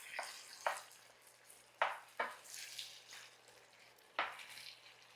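Chopped tomatoes and sausage stirred in a hot pan, a spoon scraping and clacking in a few sharp bursts over a soft, steady sizzle, close by.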